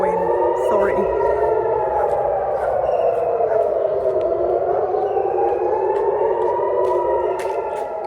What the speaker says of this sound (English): this video includes the sound of sirens